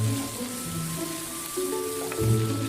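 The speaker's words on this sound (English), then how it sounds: "Stir-fry evenly until the cabbage stalks are just cooked through." Cabbage stalks stir-frying in a hot wok with ginger and soybean paste: a steady, moderately loud sizzle with soft scraping stirs and a faint hum underneath, no talking.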